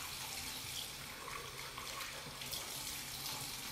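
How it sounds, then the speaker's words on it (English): Warm water runs steadily from a tap into a sink while a face is rinsed, a soft continuous splashing hiss that stays fairly faint and even, with no talking. "then I get warm water, and then I just start to rinse my face"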